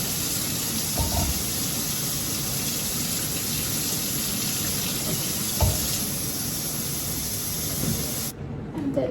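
Warm water from a tap runs into a bucket holding a little cleaner, making a steady, close hissing rush that goes on throughout and cuts off just before the end.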